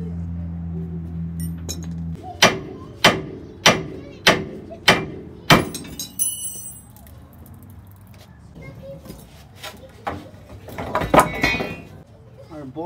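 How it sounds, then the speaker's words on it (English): A hammer strikes a ball joint on the front suspension of a 1987 GMC R3500 Sierra Classic dually to knock it from its socket: six evenly spaced, ringing metallic blows, a pause, then a few more scattered hits close by. "I'm just gonna hit it with my hammer, then it should come right out of the socket"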